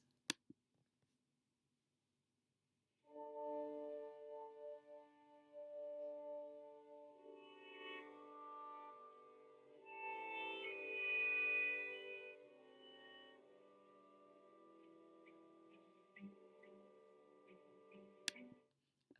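An orchestra plays a simple, nostalgic melody from a later movement of Sibelius's Symphony No. 5, entering after a short silence with sustained, layered tones that swell midway and then settle softly.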